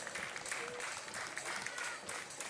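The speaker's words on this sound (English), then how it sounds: "Come on everyone, let's give it a round of applause" Crowd applause after a beach volleyball quarterfinal match, a faint, steady wash of clapping with some crowd noise, heard from a distance.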